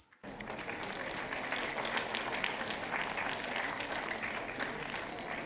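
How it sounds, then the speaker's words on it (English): Dense, sustained applause from a school prize-day audience for a performing cast, a steady wash of many hands clapping at full volume after a brief silent start. "Let's give our amazing cast a huge round of applause."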